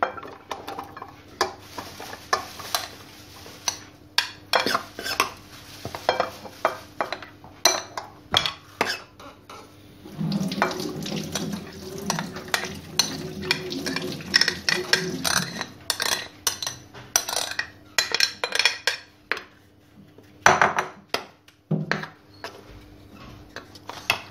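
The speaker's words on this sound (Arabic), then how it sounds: "كنضغط عليه بالملعقه بحال هكا." A metal spoon presses and scrapes rice into a cake mould for a salad, making close, irregular clinks, taps and scraping knocks in bursts, with a denser stretch of pressing in the middle and no speech.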